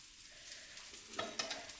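An egg for a half-fry breakfast sizzles and crackles steadily in a pan, close and soft, with a few brief scraping pops near the end.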